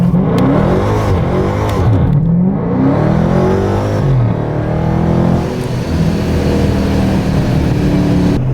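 A supercharged Dodge Challenger Scat Pack on drag radials is floored from a roll, its engine roaring loud and close with rising and falling revs as the wheels spin, whine sweeping up and down through several bursts.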